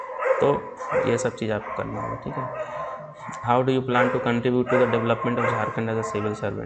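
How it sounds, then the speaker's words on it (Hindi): Several dogs bark repeatedly close by in a loud, irregular burst that overlaps someone speaking, the barking continuing in clusters under his talk. "ये पता नहीं कुत्ते इतने भौंक रहे हैं"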